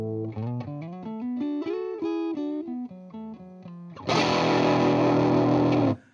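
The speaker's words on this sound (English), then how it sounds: "Almost sounds like the amp wants to blow up, but it's just because everything is compressing like crazy." A heavily distorted electric guitar through an overdriven, heavily compressing Fender amp plays a run of chords, then a sustained, saturated chord swells into a dense, compressed roar before cutting off.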